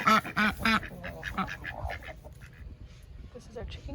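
A broody duck in a tobacco barn on a homestead farm quacks three times in a loud, close, rapid series, followed by softer scattered calls and rustling with a voice faintly in the background.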